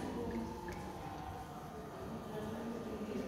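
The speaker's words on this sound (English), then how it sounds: "we should always first place the funnel above it and then start pouring the solution from your standard flask" Solution poured slowly from a standard flask through a funnel into a burette during a titration of FAS against potassium dichromate: a steady, close liquid trickle and hiss that runs unbroken throughout.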